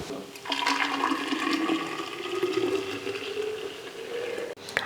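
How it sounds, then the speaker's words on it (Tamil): Prepared drink poured from a pot into a jug in a home kitchen, a steady rushing liquid stream lasting several seconds, close and fairly loud, ending abruptly. "நான் வந்து ஜக்கில் மாற்றி உள்ளே எடுத்து வச்சிடறேன்."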